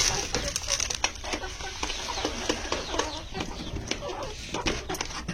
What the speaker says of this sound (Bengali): এই যে আমার এগুলো মুরগি, এগুলার এই খাবারগুলো দিয়ে দেবো